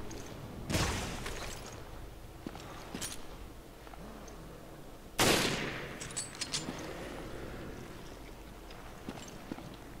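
Gunfire in Resident Evil Revelations, aboard a ship's promenade deck: two sharp, loud blasts about four seconds apart, each followed by a ringing decay over a low ambient hum, with no talk.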